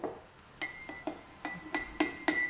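A spoon stirs a drink sweetened with maple syrup in a glass, sharp close clinks against the glass, about seven in a quick uneven rhythm, with no talk.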